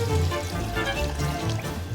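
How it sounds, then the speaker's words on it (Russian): Water pours steadily into a cooking pot for Uzbek mastava soup, a continuous close splashing fill of two and a half to three litres with no voices. "Заливайте поскорее в кастрюлю воду."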